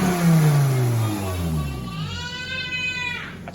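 A Volvo 850 BTCC race car engine blips and revs hard through a homemade scrap-part exhaust, the note sweeping down then climbing sharply, loud and close.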